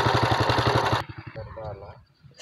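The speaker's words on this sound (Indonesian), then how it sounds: "Iya, mesinnya kita hidupkan dan sudah hidup." Hand tractor engine running in a rice paddy, a loud rhythmic single-cylinder chug close by that cuts off abruptly partway through, followed by quieter sounds and someone talking.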